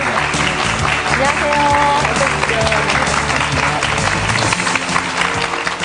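A TV studio audience claps steadily to welcome a guest, a loud, continuous wave of applause with a presenter's voice and a brief greeting heard over it.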